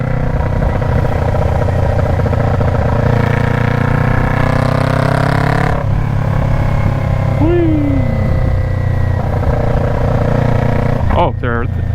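A 2021 Kawasaki Ninja 400 with its muffler deleted roars loudly and close while riding, its raw exhaust note rising and falling through gear changes, with a rider talking over the engine.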